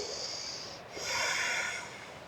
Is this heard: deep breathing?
yes